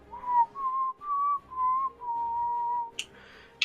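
A person whistles a wandering, tuneful line to mimic a skeleton whistling during a tabletop role-playing session, the notes held and sliding in short phrases, close and clear, ending with a brief clatter.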